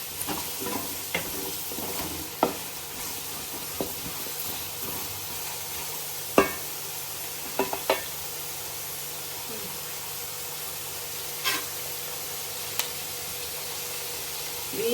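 Sliced onions frying in hot oil with a pinch of salt, a steady soft sizzle with scattered sharp clicks from stirring, fairly close and without talk.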